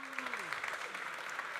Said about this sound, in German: Big Applaus für Ivan Pepe